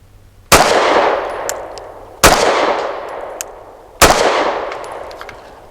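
A Sig P365 Fuse pistol fires Federal HST 124 grain rounds at a range, three loud separate shots spaced about two seconds apart, each with a long ringing decay.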